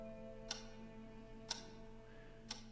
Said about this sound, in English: The majestic grandfather clock was gently ticking nearby.